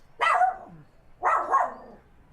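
A dog barks twice, loud and close, each bark sharp and rough with a short pause between, standing alone against a quiet background.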